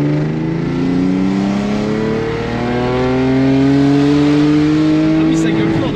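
A car engine revs hard under full acceleration, its loud, rising note climbing steadily and close up for several seconds, with no break in the roar.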